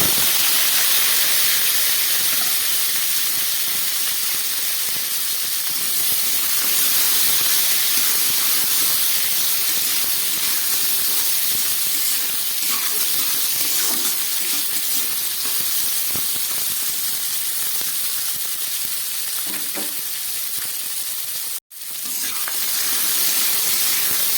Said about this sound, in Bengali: এবার এই কেটে রাখা আলু আর শিমটা একটু ভেজে দিলাম।